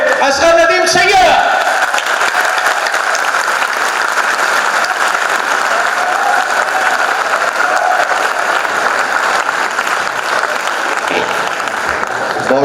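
An audience at a university literature festival inaugural session bursts into sustained, dense applause welcoming a speaker, steady and loud throughout after a brief spoken introduction at the start.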